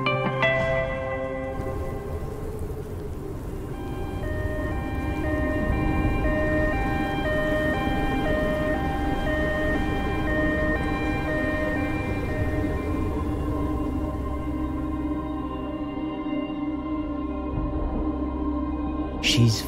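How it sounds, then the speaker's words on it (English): An ambulance siren in the hidden-object adventure game Myth or Reality 3: Snowbound Secrets wails loud and continuous for about twenty seconds, its rising and falling tone steady and alone with no talk over it. "Call an ambulance."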